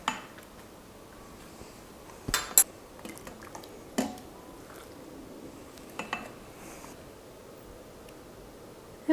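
Food is served into a small bowl, with a few scattered clinks and scrapes of dishes and cutlery over a quiet kitchen background and no talking.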